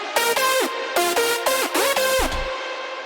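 Hardstyle synth lead made in FL Studio, with its dry lead, reverb layer, bassline and chords playing together: bright stacked synth chords with pitch-bending lead notes in a rhythmic pattern, loud and alone with no talking.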